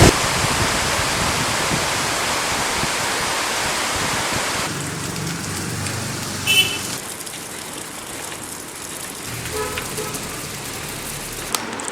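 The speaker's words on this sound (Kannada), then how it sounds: "ಹಾಗೆ ಇಲ್ಲಿ ಜೋರು ಮಳೆ ಬರ್ತದೆ." Heavy rain driven by wind makes a dense, loud hiss for several seconds, then eases into a softer, patchier patter with faint scattered sounds.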